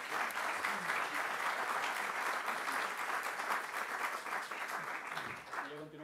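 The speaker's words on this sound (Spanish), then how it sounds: "en primer lugar damos un aplauso al equipo Altahuacho" Audience applause for the Altahuacho team fills a hall at a university event, steady dense clapping from a sizable crowd for about six seconds, fading slightly near the end.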